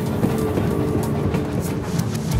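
Train rolling along the rails, a loud, steady rumble with rhythmic clatter and rattling carriage noise throughout, heard from inside.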